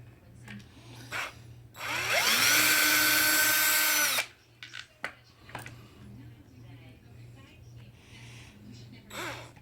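Power tool whirring in one loud, steady burst of about two seconds while loosening motor screws on a Traxxas X-Maxx RC truck, with a speaking voice before and after and a low steady hum underneath.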